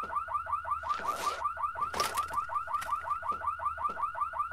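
A car alarm in the video game No One Survived blares in a steady looping warble, each rising chirp repeating rapidly and loudly throughout, with brief bursts of other game noise over it.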